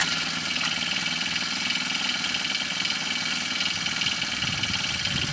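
A small Honda GX25 engine on a garden tiller idles steadily, a buzzy, even, close rattle with slight knocking and no voices.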